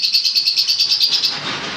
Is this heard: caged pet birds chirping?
yes